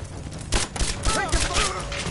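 Bursts of rapid gunfire in an action-adventure game firefight, several sharp volleys in quick succession heard close and loud, with game voices calling out over the shots.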